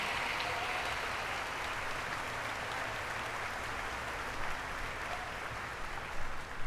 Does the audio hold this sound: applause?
yes